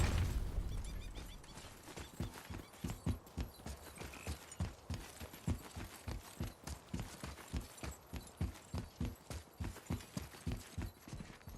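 Steady, even clip-clop of horse hooves in God of War (2018), a long run of evenly spaced thuds close up that continues throughout with no other sounds.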